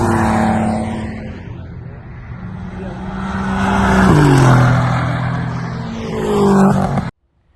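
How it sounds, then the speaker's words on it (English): A rental car driven hard on a race track straight roars past, engine building as it approaches, pitch dropping sharply as it passes close, then rising again before cutting off abruptly. "One flyby of the car in the straight."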